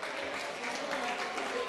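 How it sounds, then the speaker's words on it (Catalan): Studio audience at a Catalan spelling quiz show claps for a team, a brief, dense burst of steady applause at moderate distance. "Aplaudiments per a l'equip"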